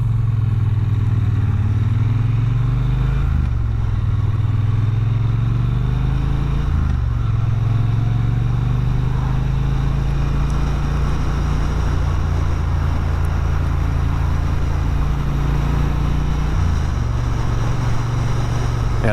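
A Triumph Bonneville T120 with aftermarket pipes rumbles steadily and loudly, its deep exhaust note shifting slightly in pitch as it rides along, with constant wind noise throughout.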